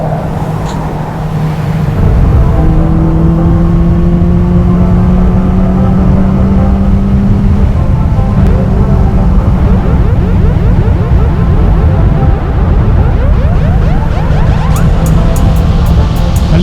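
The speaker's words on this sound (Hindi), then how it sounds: "बाइक की जो आवाज़ है कान में मस्त वाली आ रही है" A Benelli 600i four-cylinder motorcycle runs loud and close, its engine note holding a strong steady drone, then rising and sweeping in pitch as it revs and passes by, with no talk over it.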